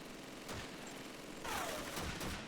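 Sustained machine gun fire from Call of Duty 2 rattles in a continuous dense burst, fairly faint and distant, growing slightly louder in the second half.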